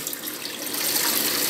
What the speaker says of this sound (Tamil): இந்த க்ளீன் வாட்டரை நம்ம ஊற்றியாச்சு